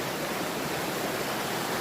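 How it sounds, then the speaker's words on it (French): Small waterfall nearby, a steady broadband rush of falling water that stays even and constant throughout with no voices. "il y a une petite cascade juste là-bas"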